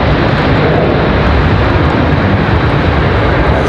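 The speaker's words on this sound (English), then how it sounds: "Good look at the 737-7." A Boeing 737-7 jet airliner roars loudly and steadily at close range at Raleigh Durham airport, a broad continuous engine rumble with no pauses.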